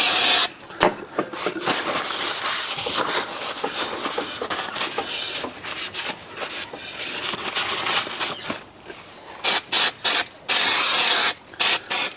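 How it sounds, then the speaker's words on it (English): Copper grease spray being applied to a wheel hub on a crash-damaged Fiat 500: a long run of close, steady aerosol hissing, ending in several short, sharp bursts of spray. "please note, copper grease"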